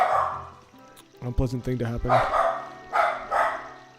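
A pet dog barks in a short run of sharp, evenly spaced yaps close to the microphone, followed by some agitated noises. Someone talks over the barking while an Ocarina of Time game plays quietly in the background.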